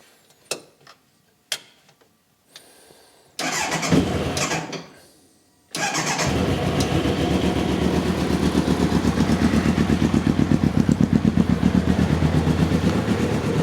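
After a few clicks and a short cranking attempt, an engine fires up and settles into a steady, rhythmic idle, close and fairly loud, with no talking.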